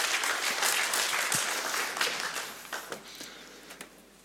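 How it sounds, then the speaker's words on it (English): Conference audience applauding speakers from a railway company at a software event, broadband clapping dense at first and thinning into scattered claps toward the end. "let's go ahead and give them a round of applause"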